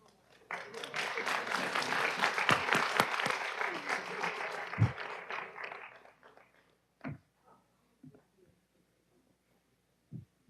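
Applause at a city council meeting honoring youth basketball champions, a burst of clapping lasting several seconds that fades into a few isolated claps and quiet room noise.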